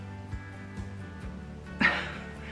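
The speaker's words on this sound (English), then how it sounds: "this is my dog" A dog gives a few soft, short barks in a quiet room and then one louder bark near the end. No speech over them.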